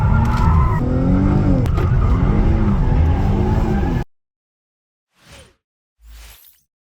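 A 2024 Dodge Charger with the 3.6 V6 pulls at full throttle, loud and close, its engine rising for about four seconds before cutting to near silence with a couple of faint sounds after.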